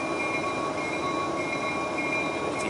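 CN freight train 5483, the southbound Woodtick L564, departing Ladysmith: a steady, loud rolling rumble of rail cars with sustained wheel squeal tones and no break or voices throughout.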